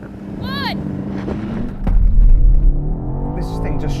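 A performance SUV such as a BMW X6M, Audi RSQ8 or Porsche Cayenne Turbo S launches hard in a drag race, with a loud rumbling surge of engine and rising revs close by, and voices talking over it.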